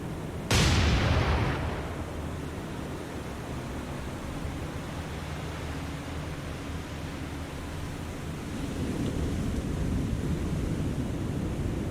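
Naval guns fire from warships in the World War II game War On The Sea: one loud, close blast cracks out near the start, then a long rolling rumble and a steady wash of sea and battle noise follow, with no talking.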